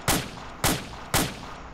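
Gunfire in the military shooter game ArmA 2: three sharp, loud shots at an even rhythm about half a second apart, each with a short decaying tail.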